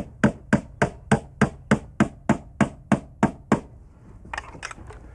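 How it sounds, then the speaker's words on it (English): A hammer drives 8-penny galvanized common nails through wooden door casing in about eleven sharp, evenly spaced blows. The blows are close and loud, then stop, followed by quieter handling sounds. "And you nail right through the casing."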